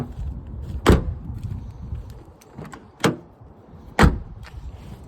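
Doors of a 1985 Honda car shut three times with solid, heavy thuds, each a sharp close impact spaced about a second or two apart, over a quiet low background.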